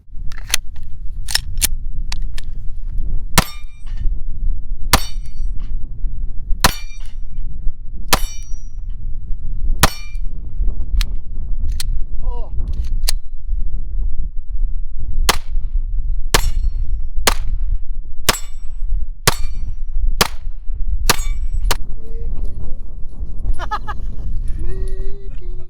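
Sharp, loud gunshots from a Taurus G3C 9mm handgun at a range, fired in irregular bursts of about twenty shots, each a crisp crack with metallic clang over steady background noise.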